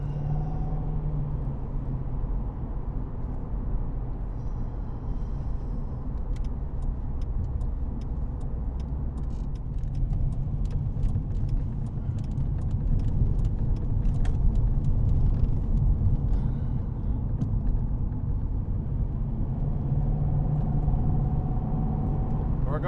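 2004 Ford Thunderbird cruising down the I-5 freeway, heard from inside as a steady low engine and road rumble with faint ticking, slowly rising in loudness.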